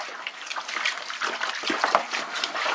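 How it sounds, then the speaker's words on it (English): Spoon stirring clumping dry malt extract into homebrew wort: a continuous wet swishing and sloshing with a few small clinks, close and steady, with no talking. "So we take the spoon and we give it a good stir."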